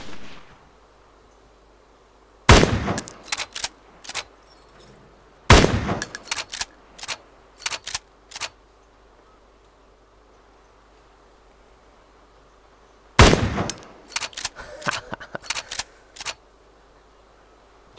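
Gunshots ring out in a video game in three separate volleys, each a loud sharp crack followed by a quick string of fainter rapid shots, with quiet gaps between them.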